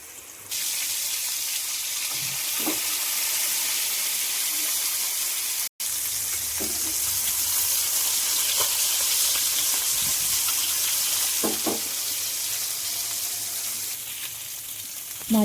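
Rohu fish pieces rubbed with salt and turmeric hiss and sizzle steadily in hot oil, a continuous bright frying noise with a few soft clinks and taps of utensils throughout.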